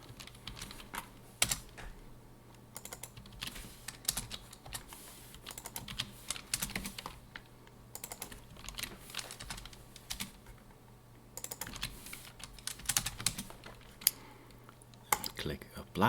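Typing on a computer keyboard, with rapid, irregular clusters of light plastic key clicks and short pauses, close and fairly quiet, continuing for about sixteen seconds with no talking.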